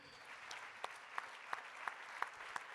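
An audience applauds at the end of a talk, the clapping faint and distant, with a few sharper, evenly spaced claps standing out.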